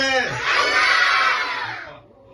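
A group of children shout a single word together, loud and close, the cheer swelling briefly and then fading out.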